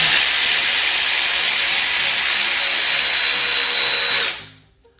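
A power tool whirs with a steady high-pitched hiss while tightening the cam belt on a Nissan SR20VE engine in a 1991 Sentra B13, running continuously up close for about four seconds before cutting off.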